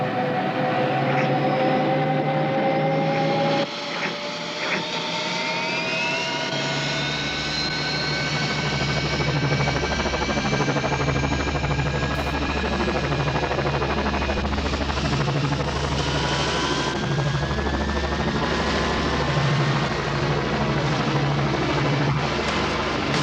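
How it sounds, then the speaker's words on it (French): A helicopter's steady rotor thump and engine whine drone continuously throughout, loud and close. "Murray, tu me laisses conduire ton hélicoptère?"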